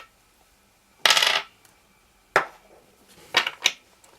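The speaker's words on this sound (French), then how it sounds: "je vais juste décaler mes petites cartes pour avoir plus de place pour travailler" Tarot cards are shifted and set down on a table in a few short, separate clattery bursts with pauses between, close and fairly crisp, with no talking.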